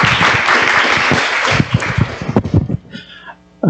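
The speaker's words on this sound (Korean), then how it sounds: "큰 박수로 맞이해 주시기 바랍니다." An audience at a quantum information standards conference applauds to welcome a presenter, a loud burst of clapping that thins into scattered claps and fades toward the end, with a cough heard.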